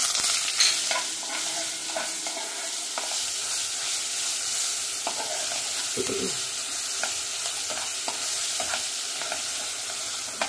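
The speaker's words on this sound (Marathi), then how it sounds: "नंतर मी आता ही जी आपण मिक्सरमध्ये चटणी दळली ना ती परतवते यात" Loud, continuous sizzling of freshly ground chutney paste frying in hot oil, with occasional stirring scrapes and crackles close by.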